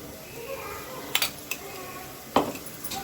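A spoon scrapes and knocks against a pot while stirring mutton curry with fresh coriander, giving a few sharp metallic clinks and scrapes over a low kitchen background.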